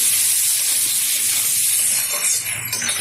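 Small washed hilsa fish go into a hot pan and are stirred, giving a loud, steady sizzling hiss throughout.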